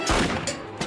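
A cartoon gunshot from Family Guy, a quick loud burst of sharp cracks within under a second, with no voices.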